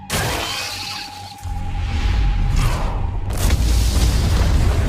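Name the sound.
explosions like fireworks in ant tunnels, anime cutscene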